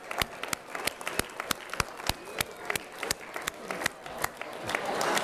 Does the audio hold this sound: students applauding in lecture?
yes